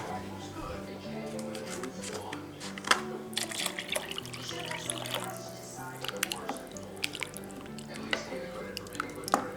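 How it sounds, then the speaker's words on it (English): A whole carton of beef bone broth pours into a soup pot, giving wet splashing, dripping and glugging that runs on with small bursts, while a voice talks over it. "We're putting in this whole carton of beef bone broth."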